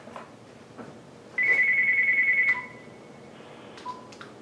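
A telephone rings with an incoming call, giving a steady electronic tone of about a second, then a softer shorter tone, alone in a quiet room.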